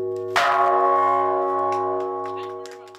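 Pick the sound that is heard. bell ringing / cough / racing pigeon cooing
bell ringing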